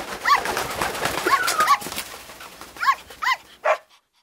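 Several dogs bark in a crowded vet's waiting room as an audiobook effect, a handful of sharp, fairly close barks and yelps spaced irregularly, the last one trailing off into silence.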